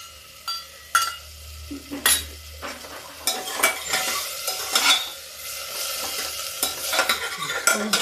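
Chana dal tipped into cooked masala in a pan, frying and being stirred, with a steady close sizzle under repeated scrapes and clinks of a spoon against the pan.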